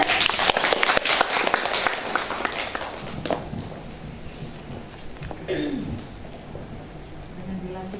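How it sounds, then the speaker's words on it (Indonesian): Audience at a branch inauguration ceremony in Papua clapping, a dense burst of applause over the first few seconds that thins to scattered claps, with voices and room noise carrying on afterward. "Boleh kita berikan tepuk tangan?"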